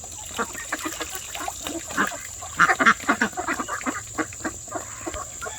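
Cayuga ducks on a farm on a rainy day, quacking in a cluster of short, repeated calls that bunch densely in the middle, fairly close, over a soft background hiss.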